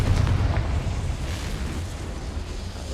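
A Confringo blasting spell detonates in the Hogwarts Legacy video game, a loud, sustained explosive rumble that fills the clip with heavy low-end roar and crackling hiss, with no voices over it.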